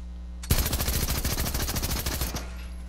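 Rapid automatic gunfire from a machine pistol in a shooter video game, a sustained burst of about two seconds of evenly spaced shots hammering a metal wall, loud and close with no talk.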